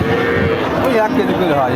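A two-toothed dairy cow with her bull calf lows at the Chowgacha cattle market, the moo set against steady crowd chatter and market noise.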